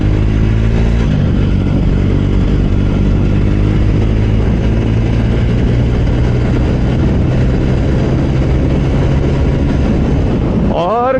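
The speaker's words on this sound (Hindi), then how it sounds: "ये है ओवरटेकिंग का मज़ा इस बाइक से।" A Jawa 42 2.1 motorcycle, ridden for four years and 32,000 km, accelerates while overtaking, its engine drone loud and steady throughout with a rising pitch sweep near the end.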